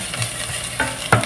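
Garlic browns in a hot pan, giving a soft, steady sizzle broken by a few short scraping stir strokes near the end. The sound is close but fairly quiet.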